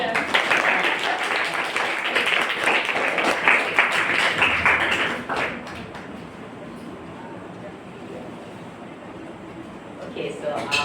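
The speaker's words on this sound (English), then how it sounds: "Give a clap to them." Small audience applauding guests on an education podcast, a lively patter of clapping hands for about five seconds that fades into quiet room noise, with faint talk afterward.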